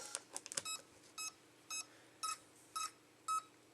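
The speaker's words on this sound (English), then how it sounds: "And what you hear there is the motor turning." A series of short electronic beeps and chirps from a radio-controlled car's motor spinning up, rapid at first then spaced evenly, quiet and close.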